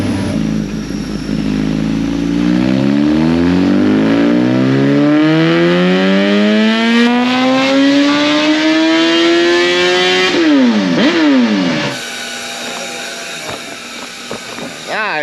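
Gen 3 Suzuki Hayabusa sport bike on a dyno: a loud, close engine pull sweeps steadily up in pitch over about ten seconds, then quick throttle blips and a lower rev follow.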